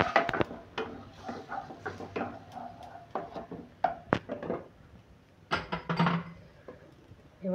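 A spoon stirs poppy seed paste with water in a pan, giving close, irregular scrapes, taps and clinks against the metal with short pauses in between.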